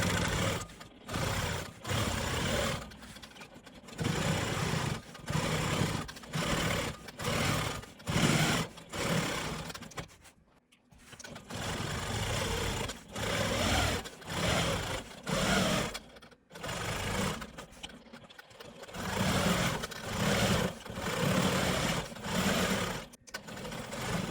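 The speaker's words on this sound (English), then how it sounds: "now I'm going to stitch around the perimeter of this block" A sewing machine stitches around the perimeter of a quilted maple leaf block, whirring in short bursts of rapid needle chatter separated by brief stops, fairly quiet and steady with no talking.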